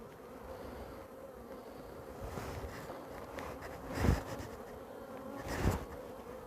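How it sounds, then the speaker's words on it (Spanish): A steady insect buzz of many honeybees at a hive hums close by, with a couple of louder swells as individual bees pass near. "Vaya abejas buenas estas. Esta es mi colmena favorita"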